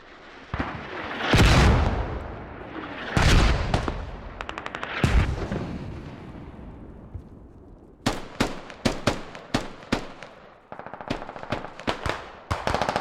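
Mortar and gunfire in a large 50-versus-50 multiplayer battle game at Goose Bay: several heavy booming blasts with long decays, followed by rapid loud gunshot bursts.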